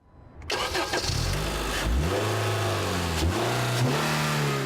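A Honda Civic HFP with a 2.4-litre four-cylinder engine starts up and accelerates hard, a loud rising growl that sweeps up in pitch, drops with gear changes and climbs again.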